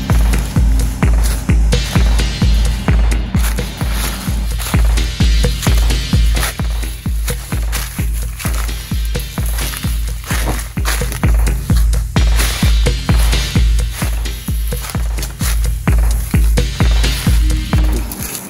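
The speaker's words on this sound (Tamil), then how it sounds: "இந்த இடத்துல பார்த்தீங்களா அவ்வளோ அதிகமான சத்தம் வருது பார்த்தீங்களா இப்போ இந்த கருவியிலேருந்து சத்தம்" A gold detector used while prospecting among rocks in Australia gives loud, rapid, evenly repeating electronic pulses that continue steadily without pause, with no talk.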